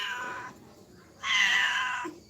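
A cat meows twice close by, a shorter call followed by a longer, louder drawn-out wail, with quiet background between them.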